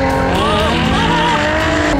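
Car engine revving hard under acceleration in a driving simulator, a loud continuous roar with rising and shifting harmonics and some tire noise, steady throughout with no talking.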